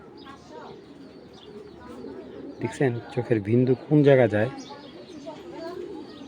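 Giribaz pigeons cooing in a series of throaty, rolling calls, loud and close, alongside someone talking.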